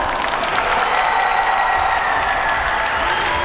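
Audience applause fills a packed hall at the close of the Broker open talk at the Busan International Film Festival, a steady, dense wash of clapping lasting a few seconds.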